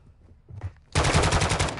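Automatic gunfire in a battle royale video game: after a near-quiet stretch with a faint muffled thump, a loud, sustained burst of rapid shots erupts and continues to the end.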